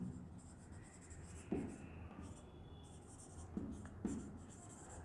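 Marker or chalk writes on a classroom board during a chemistry lecture, soft scratchy strokes with a few sharper taps, faint and close, with no talking.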